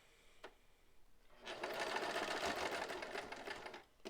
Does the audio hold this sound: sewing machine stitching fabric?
yes